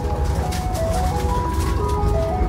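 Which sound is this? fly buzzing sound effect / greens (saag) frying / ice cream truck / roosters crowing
ice cream truck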